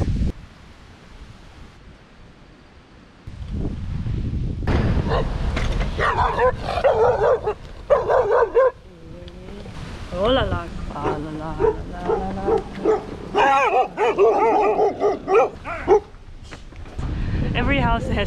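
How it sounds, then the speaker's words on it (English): Several village dogs in Tonga bark and yip repeatedly at a passing cyclist, the barks coming close and overlapping in bursts, with wind rustle and the cyclist talking over parts of it. "they keep coming out to me barking"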